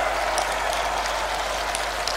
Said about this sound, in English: give yourself a round of applause for sticking around